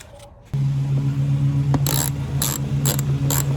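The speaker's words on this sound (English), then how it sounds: "first you want to remove the 8 stock screws that are up underneath. You'll use a 7mm socket on these." A ratchet with a 7mm socket clicks in repeated short bursts as it backs out stock screws from beneath a 2015-2023 Dodge Charger, over a steady low hum, close and fairly loud.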